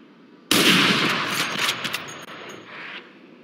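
Gunfire from the Valorant video game as weapons are tried out on practice targets: a loud burst starts abruptly and rattles on for about two and a half seconds, then cuts off. No one speaks.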